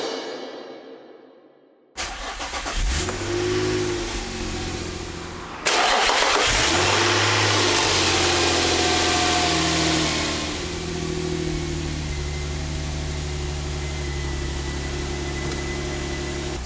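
An Infiniti G35 with a newly installed cold air intake cranks and starts after a short quiet moment. The engine then blips through several loud revs before it settles into a steady, close idle.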